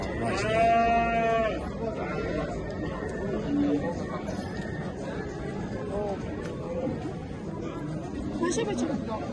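Cattle at a livestock market in Kara-Balta, including dairy cows, heard as a low moo amid the steady murmur of the crowd, with people talking throughout.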